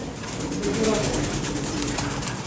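Racing pigeons at a loft coo softly while eating feed, low murmuring calls under a dense close rustle of birds, with no clear voice.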